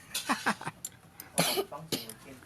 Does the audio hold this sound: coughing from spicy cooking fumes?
yes